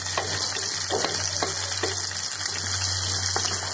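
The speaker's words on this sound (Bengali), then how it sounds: "তো আলুটা আমি এবার একটু ফ্রাই করে নিয়েছি" Potato pieces frying in a pan for a chicken and potato curry, a steady bright sizzle with a few soft stirring knocks scattered through and a low hum underneath.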